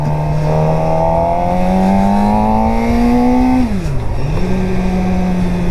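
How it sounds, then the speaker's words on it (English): A 2023 Suzuki GSX-R600 sport motorcycle engine runs in a steady, smooth idle, then briefly drops in pitch before settling back to an even purr. No one speaks. "listen to the pretty engine sound"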